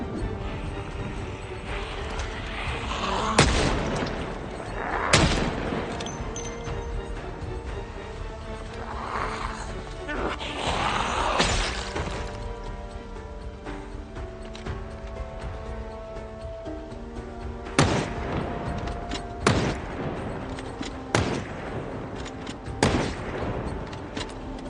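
Rifle shots in Project Zomboid ring out in scattered bursts, a few sharp reports early and several more near the end, over a busy game backdrop with low ambient rumble.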